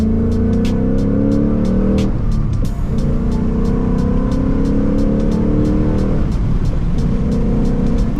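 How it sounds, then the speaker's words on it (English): Ford Mustang Mach 1 V8 engine blipping through automatic rev-matched downshifts, heard from inside the car as a loud steady drone with two sweeping rev changes, no talking. "Check out auto rev match."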